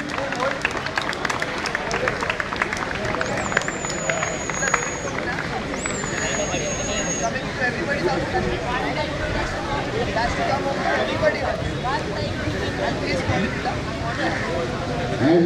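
Audience applause at a school sports tournament prize ceremony, a sustained wash of many hands clapping amid crowd hubbub, with a couple of brief whistle tones near the start and people talking over it throughout.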